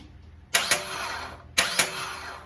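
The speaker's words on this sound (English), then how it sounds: "if I touch the key, it should crank that starter" A starter motor on a 1954 Ford Y-block engine fitted with an AOD transmission is bumped twice, each press giving a sharp double click and a short whirring crank that stops without the engine starting, close and loud in a quiet shop.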